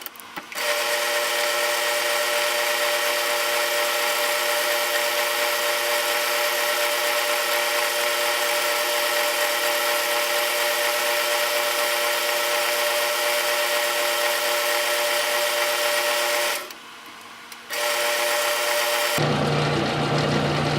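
A South Bend Model A metal lathe taking facing cuts across the end of a piece of stock hums with a steady tonal machine whine and cutting noise, briefly dipping once before carrying on and shifting near the end.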